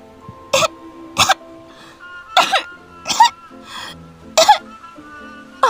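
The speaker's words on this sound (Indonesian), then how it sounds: "Amar terbatuk-batuk gara-gara menelan air laut." A series of short, sharp coughs, repeated in irregular bursts over a quiet musical background.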